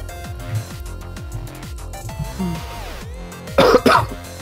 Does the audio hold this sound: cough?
yes